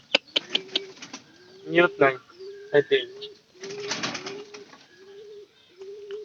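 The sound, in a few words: pigeon cooing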